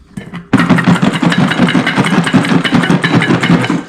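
Rapid, continuous rattling of garlic cloves shaken inside a lidded container, loud and close, starting abruptly and keeping a fast steady rhythm.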